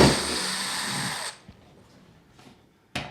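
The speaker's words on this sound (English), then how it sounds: "Let me go ahead and use my drill on this one so we can hurry up." A power drill whirs steadily at close range as it backs out plastic drywall anchor screws from a wall-mounted towel bar, then stops abruptly, leaving a quiet pause before a brief final burst.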